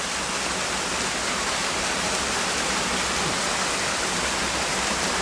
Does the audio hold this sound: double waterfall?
yes